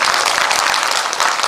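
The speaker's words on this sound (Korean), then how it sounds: "존경하시는 시장님과 동장님께 우리 한번 힘찬 박수 좀 부탁드립니다." Loud, dense applause from a residents' town-hall audience for the mayor and the dong chief at a community centre, continuous and close throughout the short burst.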